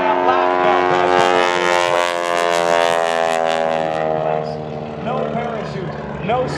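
Propeller aerobatic airplane performing 4-point and 8-point hesitation rolls at an air show, its engine a loud, steady drone with a shifting pitch that stays close and strong throughout, with some voices in the background.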